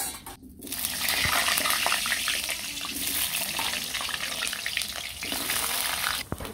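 Potatoes frying in a pan of hot oil give a steady, dense sizzle that holds for several seconds, close and loud, with faint stirring and no speech.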